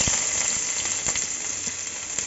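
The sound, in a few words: onions frying in hot oil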